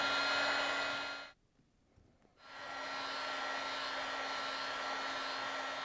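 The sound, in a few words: heat gun warming a refrigerator door gasket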